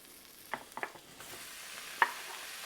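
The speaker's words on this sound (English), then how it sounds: "We're going to add our bacon to it." Bacon begins to sizzle in a sauté pan over roughly medium heat. The frying hiss is faint and low, with a few soft pops and clicks scattered through it.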